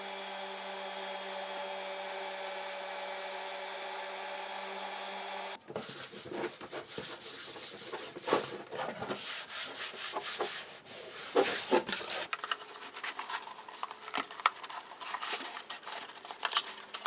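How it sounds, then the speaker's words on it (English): A repaired Chevrolet Trailblazer console lid is sanded by hand in fairly quiet, rapid, rough rubbing strokes. A steady mechanical whine runs for the first few seconds before the sanding starts. "I think I am going to sand this down just a little bit."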